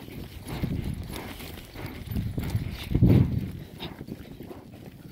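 Horse hooves clip-clop at a walking pace on a morning ride across a property with cows about, a near, uneven rhythm of thuds under faint rustling, growing heavier briefly toward the middle.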